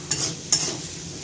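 Onion paste frying in spiced oil, stirred in a pan, with two short scraping strokes over a steady close sizzle.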